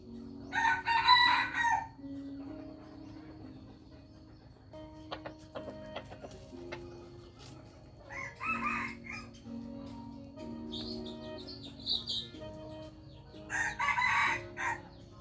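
A rooster crows three separate times, spaced several seconds apart, over a faint steady background hum.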